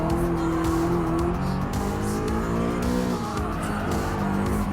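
A 2016 Audi R8 racing against a Porsche 911 GT3 RS in Gran Turismo Sport, its engine droning steadily and loudly with shifting pitch and tire squeal, no talk.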